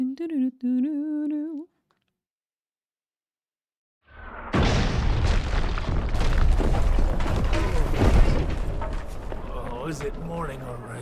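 In Kingdom Come: Deliverance 2, a voice speaks briefly, silence follows, then heavy rumbling trebuchet impacts and crashes build into a dense, loud barrage of booms.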